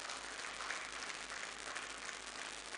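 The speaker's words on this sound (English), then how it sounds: "Clap more for that, please." Steady applause from an audience at a trade fair opening ceremony, broad and continuous without pause, at moderate level for about three seconds.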